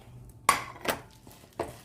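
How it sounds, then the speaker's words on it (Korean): Dishes handled while a seasoned wild-greens side dish is plated at home: three sharp clinks of a plate and utensils, close and fairly quiet, with no talk. "접시에 담아 보겠습니다"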